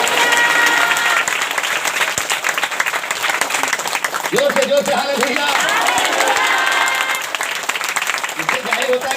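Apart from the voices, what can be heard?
congregation clapping hands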